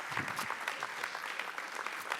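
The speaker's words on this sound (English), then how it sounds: "Let's give him a round of applause" Sustained applause from a live audience at the CultureSummit in Abu Dhabi, 2017: dense, steady clapping filling the whole stretch with no pauses, close and evenly loud.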